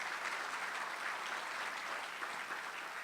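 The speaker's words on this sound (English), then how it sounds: "Please give them a round of applause." Audience at an economic summit applauding the event sponsors, a steady even wash of clapping across the room, heard fairly faint and distant.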